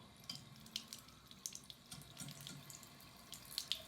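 Faint running water from a newly fitted tap, spitting and sputtering in irregular bursts as trapped air clears from the pipe, quiet and close, no voices.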